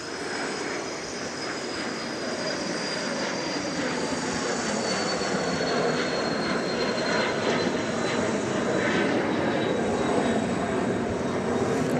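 A business jet at Dallas Love Field roars steadily and loudly through the whole stretch, a sustained broad engine rush with a faint high whine sliding slowly downward, no talk over it.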